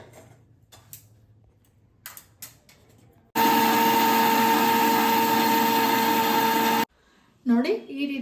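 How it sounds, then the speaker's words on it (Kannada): A mixer grinder grinds roasted flax seeds, fennel and ajwain into powder with a loud, steady whirring roar lasting about three and a half seconds. Quiet tapping and handling sounds come before it, and a voice speaks briefly afterward. "ನೋಡಿ ಈ ರೀತಿಯಾಗಿ ನುಣ್ಣಗೆ ರುಬ್ಕೊಳ್ಬೇಕು"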